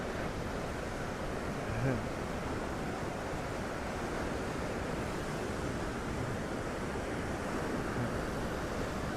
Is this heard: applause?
no